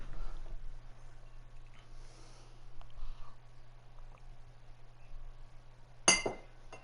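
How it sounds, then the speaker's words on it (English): Drinking glasses knocking together once in a single sharp clink near the end, after a long stretch of quiet room hum and faint small noises. "bang the glasses and break them, you wombat"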